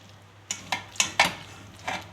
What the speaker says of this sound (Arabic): نقلبها فيها كده عشان بس ايه ما تعجنش، نقعد نقلب كده